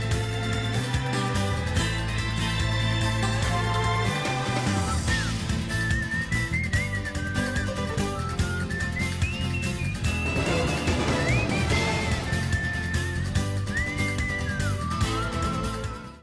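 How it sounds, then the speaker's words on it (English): In the Wild Arms 5 battle theme, loud full-band video game music carries a bright whistled melody that enters partway through and rides over the driving accompaniment to the end. "in both themes, you gotta love that little whistling."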